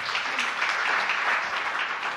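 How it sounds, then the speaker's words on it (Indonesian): A church congregation applauds at a worship service, a steady, fairly soft wash of clapping from many hands that holds evenly for a couple of seconds with no voices standing out. "Tepuk tangan yang meriah bagi Tuhan Yesus"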